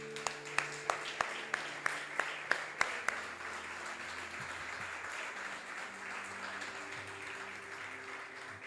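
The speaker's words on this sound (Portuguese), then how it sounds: "Aplauda Jesus." Church congregation applause during a Portuguese-language worship service: a few sharp, distinct claps ring out at the start, then settle into a sustained, even wash of clapping, with a low held organ or keyboard tone underneath.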